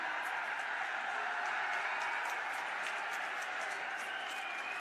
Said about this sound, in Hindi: दोनों हाथ से तालियां बजाकर हम भी स्वागत करते हैं जी का, तालियां बजाकर आदरणीय प्रधानमंत्री जी का बहुत बहुत स्वागत है